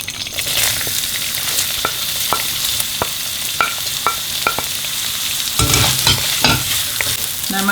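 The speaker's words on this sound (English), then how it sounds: "now we're going to fry these onions till they're golden in color" Onions frying hard on a high flame for mutton bafat, a loud continuous sizzle with regular spatula scrapes and stirring taps, and a heavier burst of frying near the end.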